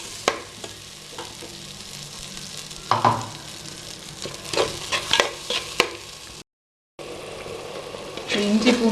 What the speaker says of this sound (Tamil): இஞ்சி பூண்டு பேஸ்ட் நல்லா பச்சை வாசம் போகிற அளவுக்கு ஒரு 3-4 நிமிஷம் நல்லா வதக்கிக்கணும்.